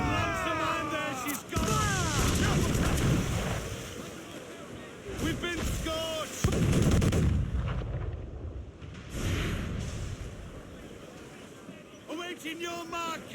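Ship cannons firing broadsides in a naval battle in Assassin's Creed IV Black Flag, deep booms amid crashing waves and wind, with shouting crew voices over and between the blasts.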